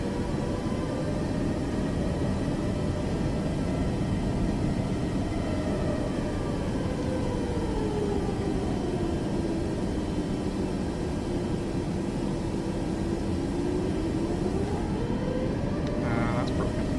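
Boeing 737 Max 8 jet engines in Microsoft Flight Simulator 2024 hum steadily at low throttle, a continuous loud drone whose pitch slowly sags and rises again over the stretch, with no talk.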